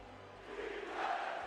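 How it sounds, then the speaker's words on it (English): Arena crowd cheering at a New York Knicks versus Los Angeles Lakers basketball game: a faint, distant, continuous roar that swells slightly toward the end. "The crowd is on fire to start the game"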